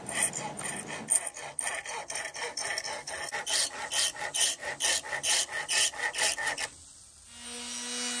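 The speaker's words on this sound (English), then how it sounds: "And then we'll sand." Hand sanding on a wooden picture frame: a steady series of rhythmic rasping strokes, close and clear, ending abruptly before a quiet hum.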